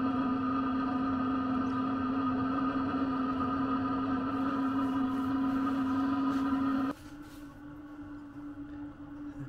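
A Sherp amphibious vehicle's heater runs loudly on the ice of Lake Winnebago with a steady droning hum and whine, then drops abruptly to a quieter, lower hum near the end; no one speaks.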